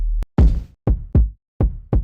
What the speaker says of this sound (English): So now here's a new kick that I have.